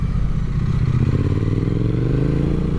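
A 2016 Triumph Street Twin motorcycle being ridden, its engine droning steadily and rising slightly in pitch as it pulls along, loud and close with no talk.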